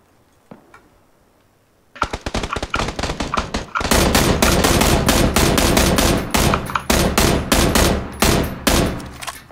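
Gunfire in PlayerUnknown's Battlegrounds, starting with a few faint distant shots, then loud rapid bursts of automatic fire, near and dense, continuing in rattling volleys with brief gaps.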